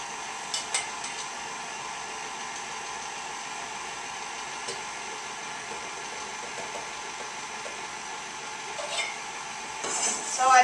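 An electric mixer beats powdered sugar into buttercream icing with a steady whirring drone. Faint clinks of the bowl are heard, and the motor grows louder toward the end.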